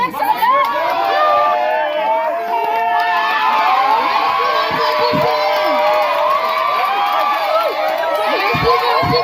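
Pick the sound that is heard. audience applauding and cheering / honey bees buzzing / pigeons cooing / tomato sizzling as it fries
audience applauding and cheering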